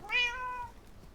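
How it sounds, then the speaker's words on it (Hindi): A single short cat meow from Minecraft, a clear rising-then-falling tone lasting about half a second, close and alone against quiet. "ड्रामेबाज बिल्ली, यहीं बिठा दूंगा, सड़ती रह जाएगी।"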